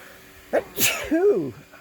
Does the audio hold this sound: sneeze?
yes